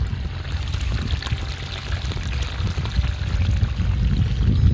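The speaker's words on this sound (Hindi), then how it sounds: "जल की धार।" Water pours and trickles steadily along an irrigation channel at a cowshed, with a continuous loud, close flow and no talk.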